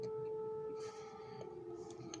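A distant air raid siren in Ukraine holds a faint steady wail under quiet indoor background, its tone sliding gradually lower as it fades.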